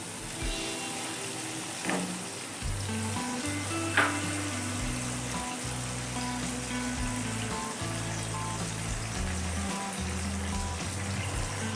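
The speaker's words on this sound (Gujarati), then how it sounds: "હવે આપણે પાણીને થોડી વાર માટે ઉકળવા દેવાનું છે" Water heating to a boil in a pan for sev khamani, a steady bubbling hiss with soft frying-like crackle, close and continuous with no talk.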